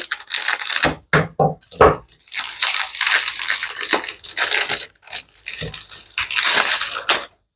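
Crinkling and crackling of a store-bought pastila package being torn open, loud, close, irregular bursts of plastic rustle with brief pauses between.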